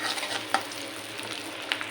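Onions and spices frying in oil for a Bengali rohu fish and ridge gourd curry, a steady soft sizzle with two brief clinks of stirring, no voices.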